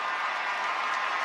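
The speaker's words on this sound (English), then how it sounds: "And this crowd is feeling good right now. They are loud." A crowd at a Los Angeles Dodgers vs Colorado Rockies baseball game, a broad steady roar of cheering and applause that fills the stands evenly, heard at a distance without distinct voices.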